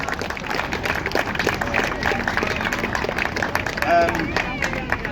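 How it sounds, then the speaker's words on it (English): An audience claps in applause at a bus depot open day, a dense, steady patter of many hands throughout, with a voice talking over it. "So let's give them a round of applause."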